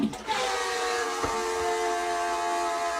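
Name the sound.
toilet making a strange sound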